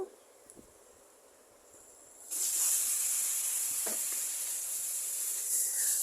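Meat pieces dropped into spice paste in a hot pan start a loud, steady sizzle that hisses continuously, close up, after a quieter opening with a few light knocks.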